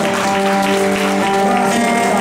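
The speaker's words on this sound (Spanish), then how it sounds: "Den un aplauso fuerte al Padre" A church congregation applauds a pastor with steady, sustained clapping. Sustained organ or keyboard chords hold underneath throughout.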